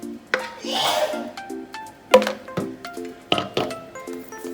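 A spatula scrapes and stirs cheddar cheesecake batter in a bowl with soft rubbing strokes and occasional clinks, heard under light background music.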